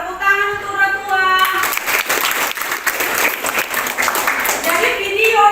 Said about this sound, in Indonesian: Iya, tepuk tangan untuk Rotua